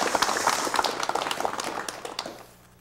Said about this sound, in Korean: 우선 전수만 군과 전현정 양을 박수로 맞이해 주시면 대단히 고맙겠습니다.